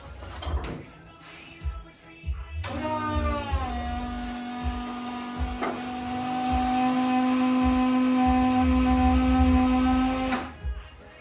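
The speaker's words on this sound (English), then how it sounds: "I'm going to kick the pump on first." Electric fuel pump switched on to pressurize the fuel system of an old machine being readied for a county fair, a sudden steady whine with a rising pitch that settles and holds for several seconds before cutting off abruptly.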